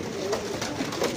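Iraqi red pigeons coo in a loft in Al-Hay district, Wasit, with loud, close, throaty rolling calls overlapping in quick succession and no talking.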